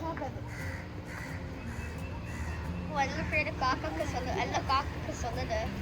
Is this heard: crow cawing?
yes